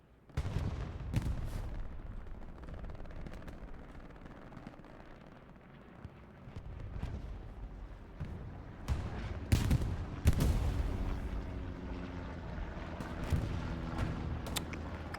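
An anti-tank gun fires in Hell Let Loose on the Stalingrad map. Heavy booming blasts with rolling low rumble come at irregular intervals against a background of distant battle noise, with a couple of shots striking loud and close.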